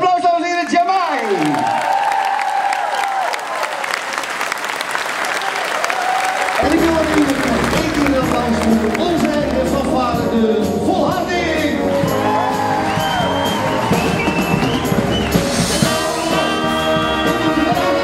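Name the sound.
audience applause for Jamai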